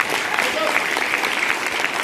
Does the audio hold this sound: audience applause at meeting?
yes